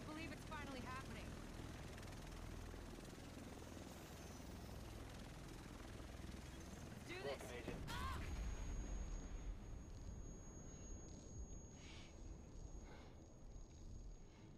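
A helicopter arrives in The Division, its rotor wash a steady broadband roar swelling to its loudest about midway through and holding through the end, with voices talking over it.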